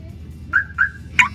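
A dump truck's security alarm sounds three times with rising electronic whistle-like tones. The first two are longer, the third is a sharp warbling blip, all at moderate distance over a low rumbling background.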